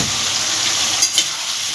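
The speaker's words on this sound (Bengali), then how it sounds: "এটা ভালোভাবে কষিয়ে নেব" Papaya curry masala with turmeric, cumin powder and sugar sautéing in a pan, a dense even sizzle close up with two light stirring scrapes near the middle, no speech.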